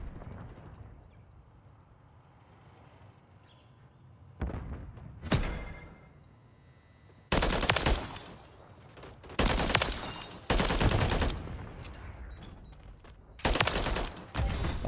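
Holger 5.56 rifle fire in Call of Duty MW3 on the Terminal map comes in sharp, loud bursts separated by quieter stretches, with several distinct volleys of rapid shots over a low background rumble.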